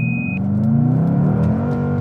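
A Mercedes-AMG C63 S engine pulling hard around a track lap, a loud deep rumbling drone rising steadily in pitch as it revs, heard from inside the car.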